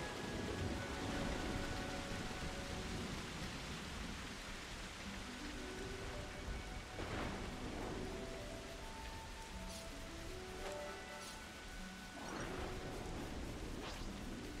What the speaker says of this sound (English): The hell of a storm.